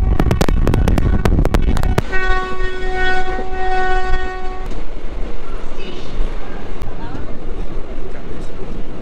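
The 13141 Teesta Torsa Express pulls into platform three with rattling clacks, then a long, loud horn blast, followed by rumbling carriages and distant commotion.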